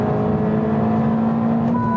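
A Honda Civic Type R on 265-section Michelin tires accelerates hard out of a corner, its engine a loud, steady, close whirring drone that rises slightly in pitch, with no talk.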